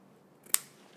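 A single quiet snip of scissors cutting leggings fabric, one brief sharp click in an otherwise still, close setting.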